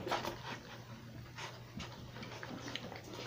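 Small dogs whimper and pant softly indoors, a steady breathy rustle with faint whines over a low background hum.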